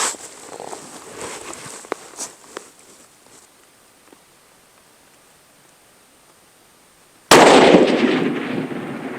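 After a stretch of quiet handling noises, a rifle fires a single loud, sharp shot at a target, and its blast trails off into a decaying roar.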